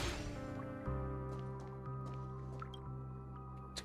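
Water dripping in the video game Honkai Star Rail, a few soft, clear drops landing at irregular moments over a low, steady sustained tone, quiet and close.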